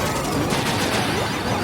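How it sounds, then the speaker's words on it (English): Rapid bursts of gunfire crackle continuously, a dense fusillade of retro-sounding shots with no pauses. "That gunfire sounds familiar."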